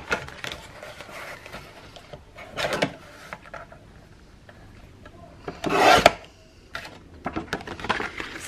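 Paper photo mat for a Christmas scrapbook album is cut by hand nearby, giving intermittent scraping, rasping strokes with one louder longer cut partway through, heard alone without talk.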